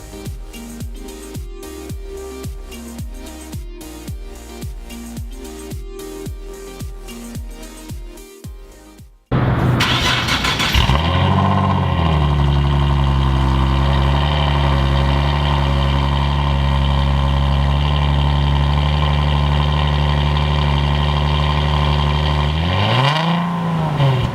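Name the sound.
Nissan 370Z engine starting and idling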